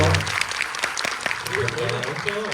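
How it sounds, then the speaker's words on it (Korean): An audience at a film festival screening Q&A for the film 'Moradong' applauds the director and actors. The applause is steady and moderately loud, with a voice speaking over it partway through. "앞에 계신 감독님, 배우님들께 큰 박수 부탁드리겠습니다"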